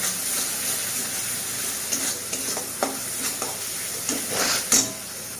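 Spice paste made with ground cumin and coriander stir-frying in a pan, a continuous soft sizzle broken by several scraping stirs and clinks, close and steady with no talking.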